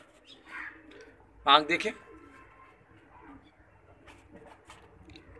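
A pigeon gives a short burst of wing flaps and a coo near the middle, heard against quiet outdoor background with someone talking briefly.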